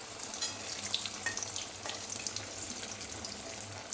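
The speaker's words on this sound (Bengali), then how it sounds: "লাল লাল করে ভেজে নেব" Loitta fish chops frying in oil in a pan, a close, steady crackling sizzle with fine popping bubbles throughout and no voices.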